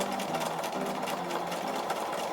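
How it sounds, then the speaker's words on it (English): A sewing machine runs in one continuous fast whirr while stay stitching around a garment neckline before a collar goes on, close and even throughout. "Before attaching the collar, I stay stitched the neckline to stop the curve stretching out."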